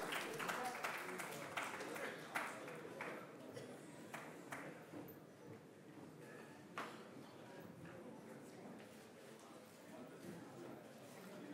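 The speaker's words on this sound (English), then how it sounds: "I am seeing the applause waning down." Audience applause at an agricultural research foundation day and award ceremony, loud at first then thinning and dying away, with a voice speaking over the fading claps.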